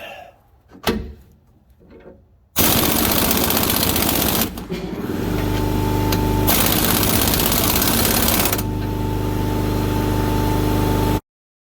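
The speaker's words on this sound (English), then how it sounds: "take the big one off the wrench, put it on the impact, turn up the juice, and gun it." An impact wrench loosens the big nut on a Chevrolet ZR2 shock in a garage, firing in loud, sustained buzzing bursts with a brief pause between them, after a few quiet handling clanks at the start.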